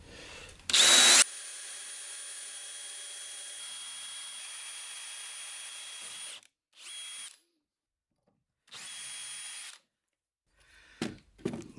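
A faulty power drill whirs continuously at a steady high pitch for several seconds, then runs in a few shorter bursts separated by silence.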